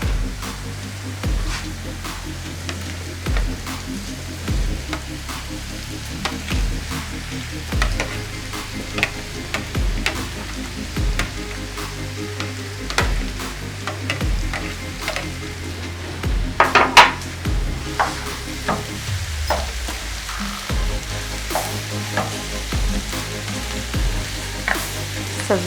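Eggplant frying in a pan with garlic, a steady sizzle broken by repeated stirring and clinks of a utensil against the pan, with a brief louder clatter partway through.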